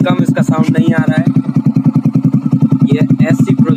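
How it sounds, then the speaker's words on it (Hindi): Bajaj Pulsar NS motorcycle with an SC Project MotoGP exhaust idling up close, a loud, even, rapid low thudding beat running throughout while someone talks over it. "ये SC प्रोजेक्ट MotoGP एग्जॉस्ट।"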